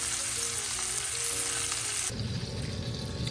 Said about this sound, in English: When you put meat into a pan that's real hot, you're going to build that crust and that sear